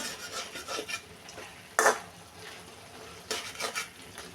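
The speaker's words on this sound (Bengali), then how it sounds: "তো কষিয়ে নিলাম ভালোভাবে।" Spices for a rohu fish and ridge gourd curry (salt, turmeric, chili, cumin powder, green chilies) being stir-fried, with a soft background sizzle and two sharp metal spatula scrapes against the pot, close by and without voices.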